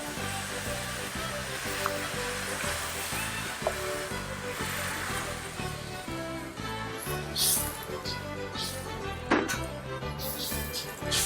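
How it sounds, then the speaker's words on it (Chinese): Sauce with tomato ketchup and rock sugar is stir-fried in a wok, producing a steady close sizzle with scraping spatula strokes and occasional sharper clanks over continuous kitchen noise. "那我们酱料先炒一下，然后加入水。"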